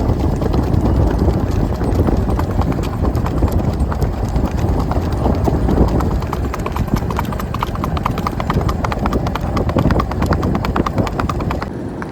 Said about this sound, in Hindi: घोड़ी और घोड़ी के पीछे भाई बच्चा मतलब कि कैसे भाग रहा है ध्यान से रोड के ऊपर